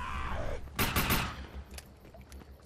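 Gunfire in the video game Defiance: a loud close burst of several rapid shots, then scattered fainter pops and rattles over steady game ambience, with a voice speaking briefly at the start.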